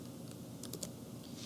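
Quiet typing on a computer keyboard during drafting work: a few soft key clicks in a short run over a steady low background hum, no talk.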